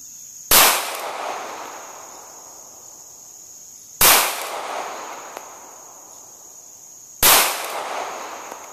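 Three loud, isolated pistol shots from a Smith and Wesson Bodyguard at an outdoor range, spaced a few seconds apart, each ringing out with a decaying echo.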